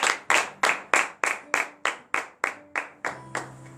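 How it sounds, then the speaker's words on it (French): A church congregation claps in unison during a Thursday morning prayer service in Benin, giving about twelve sharp, evenly spaced claps, close and loud, with a faint tone underneath. "donnez de vive acclamation à notre Seigneur Jésus"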